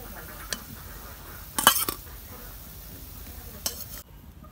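Pointed gourd (potol) frying in a pan as it gets stirred: a quiet, steady sizzle with soft scraping, a few sharp utensil clinks near the middle and later, then the sound cuts out abruptly.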